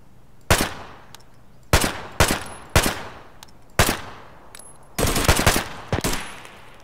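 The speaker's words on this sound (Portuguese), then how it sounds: "Nossa, o maluco tá de fuzil" Rifle fire in the video game Escape From Tarkov: about eight sharp, loud gunshots in irregular single and paired bursts, each with a short echoing tail, and no talking.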